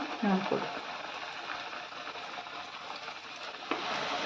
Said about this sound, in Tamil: பாருங்க எண்ணெய் நல்லா கொதிச்சிருச்சு. இப்போ நம்ம தூக்கி போடலாம். சிக்கனை ஒவ்வொன்றா போட்டு எடுக்கலாம்.